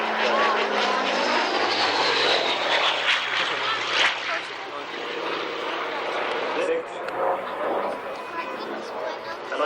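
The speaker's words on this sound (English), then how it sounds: "F-86 Sabre, also operated by the old flying machine company, and flown by Ray Hanna's son, Mark Hanna" An F-86 Sabre jet flown at an airshow, a loud continuous engine roar with a slowly shifting pitch as it passes, heard under a commentator's voice.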